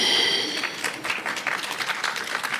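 A short burst of scattered clapping from a small group, uneven and fading slightly.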